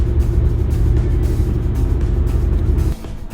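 Steady low engine and road rumble from inside a car cruising gently on a German road, loud and constant before easing slightly at the end.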